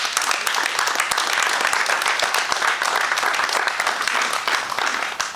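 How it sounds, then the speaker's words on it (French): A crowd applauds at an outdoor Bastille Day ceremony in Grabels, France: continuous, fairly dense clapping that keeps going throughout and fades a little at the very end. "il faut les applaudir"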